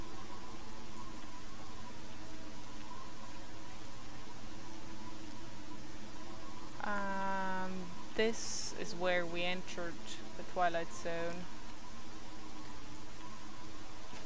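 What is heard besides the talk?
rain in the video game Lost Alpha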